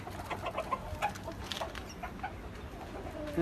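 A small backyard flock of hobby chickens in Salalah gives a few soft, scattered clucks, faint against a low, noisy outdoor background.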